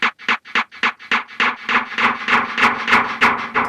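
A snare drum hits in a steady rhythm, each stroke trailed by repeating echoes that blur the hits together as the pattern continues.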